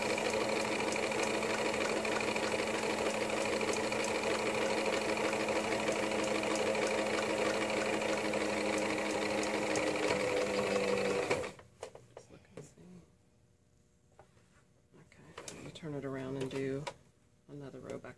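A sewing machine runs fast and steady, stitching a ruffle into thin t-shirt material for a buttercream romper, loud and close for about eleven seconds, then stops abruptly; a voice speaks faintly afterward.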